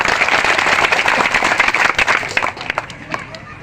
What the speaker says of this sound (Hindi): एक बार थोड़ा ताली बजा दीजिए आप लोग।